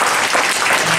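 Audience applause at a lecture event: dense, loud clapping from a crowd, close and continuous for a brief second with no voices over it.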